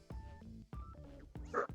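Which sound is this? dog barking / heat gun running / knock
dog barking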